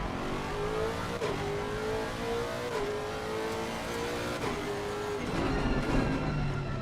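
Race car engines in a sim racing game on the Nordschleife, a sustained engine drone rising and dipping through several gear shifts, steady and moderately loud with no talk.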